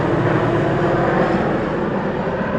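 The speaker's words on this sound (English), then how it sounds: "Got the helicopters flying over" Helicopters fly overhead, giving a loud continuous broadband engine and rotor roar that stays steady for the whole stretch, with no talk.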